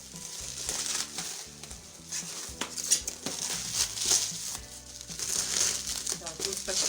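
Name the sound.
unwrapping microwave lid from stretch film and bubble wrap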